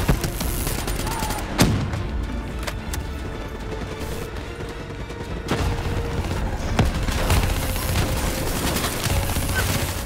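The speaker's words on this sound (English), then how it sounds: "They got sentry guns, bruh." Sentry guns fire in a Black Ops 3 campaign battle, a steady dense stream of automatic shots with occasional louder bursts, set against continuous combat noise.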